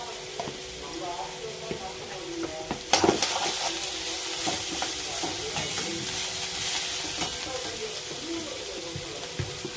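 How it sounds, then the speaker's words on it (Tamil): Sautéing in a pan while making snake gourd puttu with chana dal: a steady sizzle with repeated scraping stirs and occasional louder clatters, close up. "ஒரு 2 நிமிஷம் நல்லா வதங்கட்டும்."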